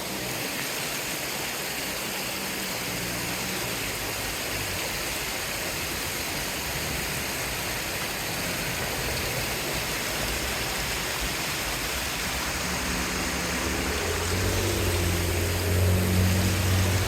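Steady rushing of water flowing in a stream beside a West Virginia back road, a continuous, fairly loud wash that holds level throughout, with a low rumble building near the end.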